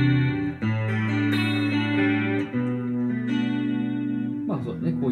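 Sustained electric guitar chords through a ZOOM G1 FOUR multi-effects pedal with chorus and reverb, amp simulator off, ring out with a shimmering, wide chorus and reverb tail, changing shape before a brighter strum.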